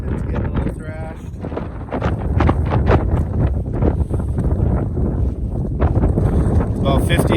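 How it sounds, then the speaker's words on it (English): Strong wind gusts steadily across an open campsite, a loud, continuous roaring rush with buffeting against the microphone and flapping, thrashing sounds throughout. "The wind definitely came up this morning."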